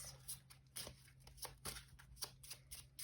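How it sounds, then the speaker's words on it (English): A deck of tarot cards is shuffled in a quiet room, giving soft, quick riffling bursts that repeat at a steady rhythm about every half second, close and faint, with no talking. "I'm gonna give this 3 more shuffles."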